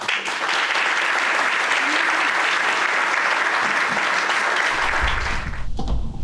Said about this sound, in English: Please join me in a round of applause to kick off our fireside chat.